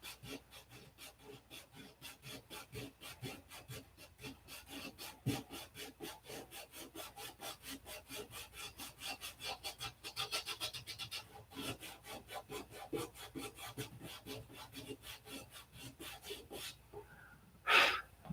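Wood sanded by hand with sandpaper, in repeated quick rasping back-and-forth strokes that run steadily and close, with a brief louder scrape near the end.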